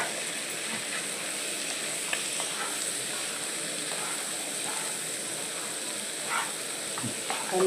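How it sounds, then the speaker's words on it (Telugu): A tadka of onions, curry leaves, green chillies and dried red chillies poured over boiled pigeon pea guggillu, giving a steady broadband sizzle that hisses on evenly with a few soft clinks near the end. "మంచిగా మగ్గిన తర్వాత గుగ్గిలు తాలింపు పోసుకుంటున్నా."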